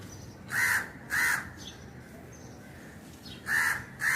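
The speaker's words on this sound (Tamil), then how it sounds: "காக்கா ஜோடியாக தான் இருக்கு பாருங்க." A pair of crows gives four loud, harsh caws in two quick pairs, close and clear over faint background noise.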